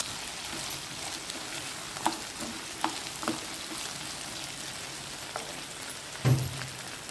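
Cut brinjal pieces frying in hot oil with mustard seeds, cumin and curry leaves, a soft continuous crackling sizzle with occasional louder pops and a brief utensil knock near the end.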